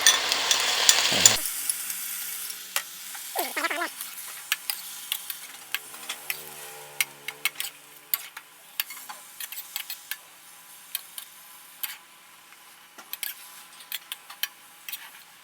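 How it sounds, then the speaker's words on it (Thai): Baby bok choy stir-fried in a wok with oyster sauce and seasoning liquid over a modest flame, starting with a brief loud burst of sizzle, then quieter frying under a long run of sharp, irregular spatula clicks and scrapes against the wok. "ถ้าผัดผักนี่ถ้าได้ไฟแรงๆ จะดีมาก ทำให้ผักเขาสดไม่ดำ"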